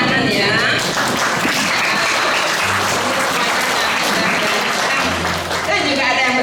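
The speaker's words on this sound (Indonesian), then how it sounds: "Tepuk tangan ya" Steady, loud applause from an audience at a community service event in Banyuwangi, continuous and full throughout, with faint speech underneath.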